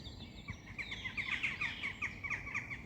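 Outdoors on a walking route in Wigan, a bird sings close by in quick repeated chirping phrases over a low background rumble.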